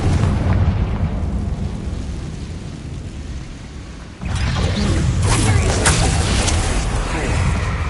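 A Confringo spell blasts apart a barricade in the Hogwarts Legacy video game, a loud booming burst about halfway through that rises over a dense, steady wash of game sound.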